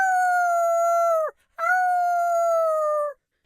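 A singer's voice imitates a baby wolf howl as a head voice exercise: two long, steady, clear high tones, each dipping at its end, separated by a short breath.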